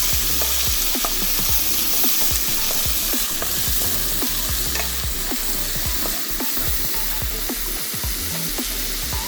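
Chopped large onions sautéing in a hot pan for an egg dish, with a loud continuous sizzle and frequent scraping strokes of a spatula stirring them through the oil, close and without voices.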